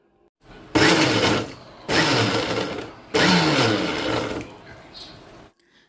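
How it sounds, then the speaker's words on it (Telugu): A kitchen mixer grinder pulse-grinding carom seeds (vamu) with salt: three loud bursts of whirring, roughly one to one and a half seconds each, with short pauses between them. "మిక్సీని మనం వన్ టూ త్రీ మోడ్లో కాకుండా పల్స్ మోడ్లో పెట్టి ఆపి ఆపి కనుక గ్రైండ్ చేసుకుంటూ ఉంటే ఇలా కచ్చాపచ్చాగా తయారైపోతుంది"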